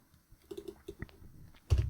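Quick, uneven clicks of a computer keyboard being typed on, close and fairly crisp, ending with a louder thump.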